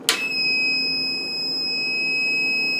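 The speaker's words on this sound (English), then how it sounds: "This is the beep I was talking about." A power inverter running off a battery at about 10.6 volts. A brief click is followed by a loud, steady, high-pitched electronic beep that holds without a break.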